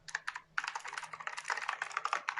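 Quick bursts of keystrokes on a small mechanical gaming keyboard, crisp clicky taps in uneven runs with a brief pause, close and fairly quiet.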